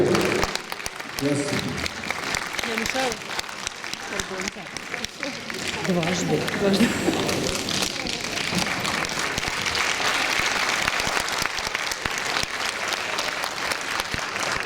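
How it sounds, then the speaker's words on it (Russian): A concert audience in Ossetia applauds a guest, broad sustained clapping filling the room, with a presenter's voice speaking over it early on. "ваши аплодисменты, уважаемые гости"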